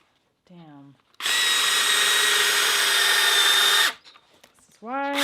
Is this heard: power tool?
yes